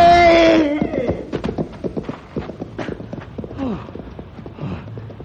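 Radio-drama sound effect of a horse whinnying loudly, then galloping away during a wolf attack: a rapid, uneven clatter of hoofbeats that gradually fades with distance.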